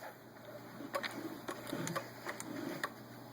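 Bobbin winder on a Singer 500 sewing machine turning, with light mechanical ticks and soft clicking taps at an irregular rhythm over a quiet, close motor hum.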